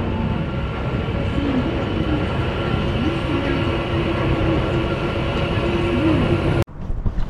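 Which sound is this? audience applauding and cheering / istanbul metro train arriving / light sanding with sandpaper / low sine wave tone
istanbul metro train arriving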